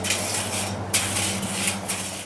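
A wire bristle brush scrubs a Weber grill grate in close, loud rasping strokes, four or five bursts in a steady back-and-forth rhythm over a low hum.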